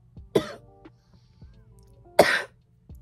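Two sharp coughs about two seconds apart, close and loud, with faint throat sounds and quiet background between them.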